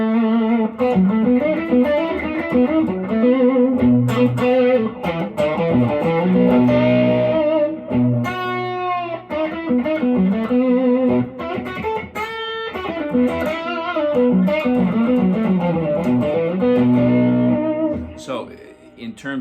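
A plywood-bodied electric guitar with a bolt-on maple neck plays through a Tweed Deluxe clone amp with overdrive, delay and reverb pedals, giving distorted, effected riffs and chords up close.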